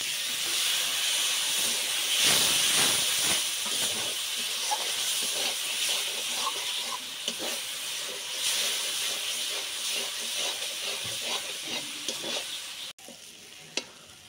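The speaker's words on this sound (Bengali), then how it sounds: "আর মশলা ধোয়া বাটির জল দিয়ে মশলাটা কষিয়ে নেব" Spice paste for homestyle mutton curry frying and being stirred in a pan, a steady close sizzle and hiss with scraping stir strokes throughout, ending in a sharp clatter.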